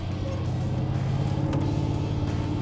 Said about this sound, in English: This is a hot rod, and this drives like a hot rod.